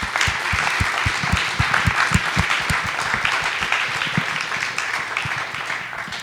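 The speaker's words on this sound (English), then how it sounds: "can we please give these wonderful folks a huge round of applause?" A conference audience applauds panelists at the close of a discussion on intimate partner violence, with dense, sustained clapping that stays loud throughout.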